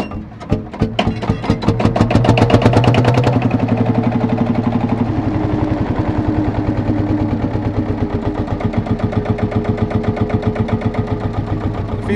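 A vintage Marshall Field Marshal single-cylinder tractor engine coughs into life after being swung over by hand, then settles into a loud, close, slow steady thumping beat that continues throughout.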